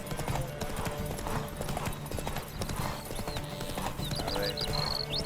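Horse hooves clip-clop at a steady trot in The Witcher 3, a continuous rhythmic patter running under game music with a brief whinny-like tone near the end.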